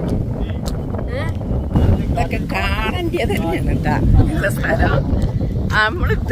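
Wind gusts across a windmill field in Idukki, a steady low rumble buffeting the microphone under continuous talking from nearby voices.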